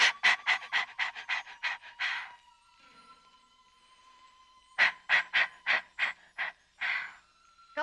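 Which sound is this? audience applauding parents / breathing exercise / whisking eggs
breathing exercise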